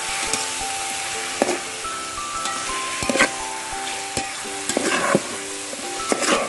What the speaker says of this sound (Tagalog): At syempre, haluin natin.